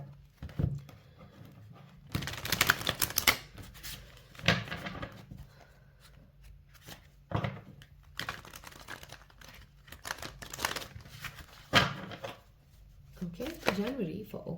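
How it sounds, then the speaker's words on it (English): Tarot cards are shuffled in several quick riffling and rustling bursts separated by quieter stretches, with faint speech in the background. "We'll give it one more shuffle."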